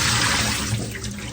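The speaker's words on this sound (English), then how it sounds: "I like to wash the rice before I cook it." Running water pours steadily over rice being rinsed before cooking, a continuous close splashing rush with no talk.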